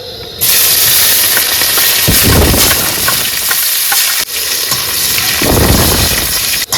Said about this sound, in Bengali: তেল গরম হয়েছে গেছে দিয়ে হালকা করে পেঁয়াজ আর রসুন